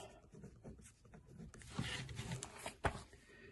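Pen or pencil writing words on paper, soft close scratching strokes that grow busier in the second half, with a sharper tap near the end.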